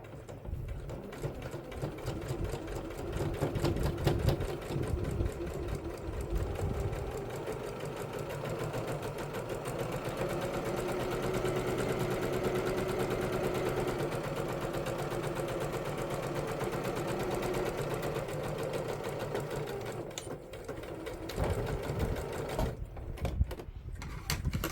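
A sewing machine stitches a fabric book sleeve at a slow, steady pace, its continuous mechanical whirr running close and fairly loud for about twenty seconds before easing off near the end.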